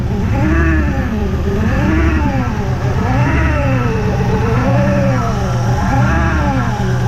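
Supercharged 3.7-litre Mustang V6 running after a supercharger kit install, a loud steady close-up engine drone with a rhythmic wavering whine, rising and falling every second or so.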